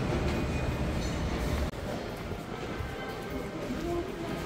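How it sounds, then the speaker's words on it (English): A Fukuoka subway Airport Line train rumbles and clatters loudly and continuously from start to finish, heard from inside a carriage, with a brief dip midway and faint talk beneath the rolling noise. "I'm gonna be taking the subway airport line over to Hakata station"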